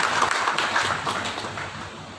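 Audience applause for a dance performance at the inauguration of a state Hindu institute in NTB, Indonesia: dense, steady clapping from a crowd that tapers slightly toward the end, with no voices over it.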